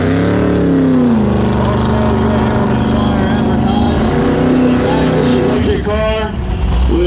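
A nitrous-fed C3 Corvette lines up against a Tesla Plaid at a drag race, its engine droning loudly and rising in pitch, while someone talks continuously over the noise of the strip.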